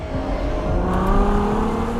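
Ferrari Purosangue SUV with its V12 engine pulling hard, a loud, close engine note rising and shifting in pitch through gear changes, steady and uninterrupted.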